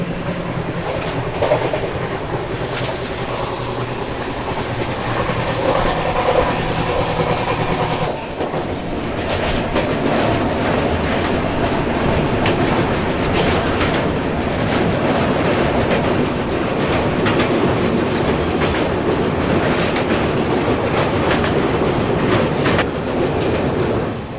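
The Pushpak Express passenger train runs on rails at night with loud, continuous rumbling and clickety-clack from the wheels, heard from inside the carriage.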